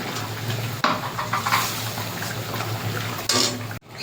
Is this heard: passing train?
no